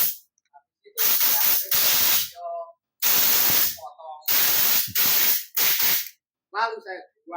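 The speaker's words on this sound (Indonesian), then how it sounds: "Nah ini saya bersihkan pakai angin" Compressed air blasts over a Honda Supra carburetor being cleaned: five or six loud, hissing bursts of a second or so each, separated by short pauses, with brief quiet voices between them.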